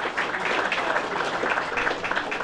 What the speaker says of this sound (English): if we can have a big round of applause